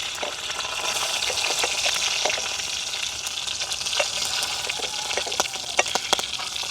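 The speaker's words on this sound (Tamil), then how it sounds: "நாங்கள் முதல் வந்து கடுகும் வெந்தயமும் பெருஞ்சீரகமும் கொஞ்சம் கொஞ்சம் போட்டு தாளிப்போம்" Mustard seeds, fenugreek and fennel temper in hot coconut oil, a steady close-up frying hiss scattered with sharp crackles and pops from the seeds spitting throughout.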